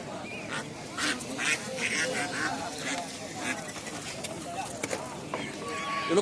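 Common domestic ducks quack repeatedly at a busy village poultry market in Naogaon, with steady crowd chatter and people talking nearby throughout.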